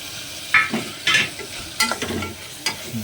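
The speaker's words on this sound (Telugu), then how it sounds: "ఇప్పుడు మనం కొంచెం మసాలాలు అన్నీ వేసేసుకుందాం." Spices are stirred into frying chicken in a pan for homemade haleem. A steady sizzle runs underneath while a utensil scrapes and clatters in several distinct strokes, close and fairly loud.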